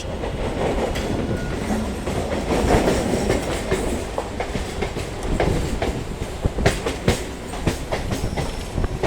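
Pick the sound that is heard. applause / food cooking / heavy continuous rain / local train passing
local train passing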